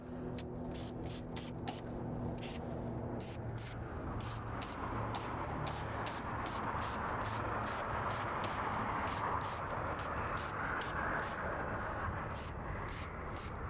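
Spray can hissing in short repeated bursts near an engine bay with a 383 stroker and 4-barrel carburetor, the spray loud and regular over a steady broadband background.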